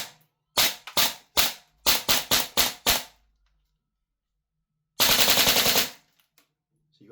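Airsoft gun fitted with a smoke and flash generator, firing a run of sharp single shots followed by a sustained full-auto burst of about a second, loud and close with no talk.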